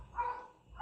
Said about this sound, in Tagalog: Pasensya na sa aso.